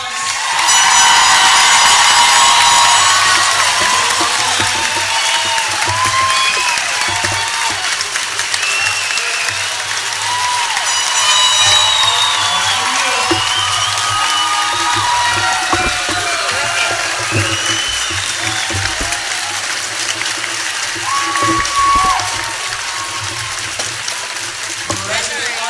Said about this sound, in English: There's our amazing group. Give them a round of applause.